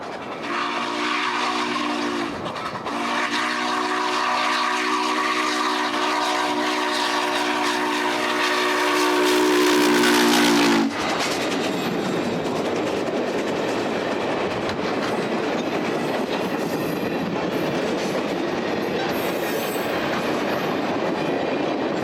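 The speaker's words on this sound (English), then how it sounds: "148 has the train really moving as it pounds along the shores of Lake Placid" A train rumbles loudly past along the shore of Lake Placid, Florida, with a sustained horn blast, then heavy rolling wheels and clatter on the rails continue for a long stretch.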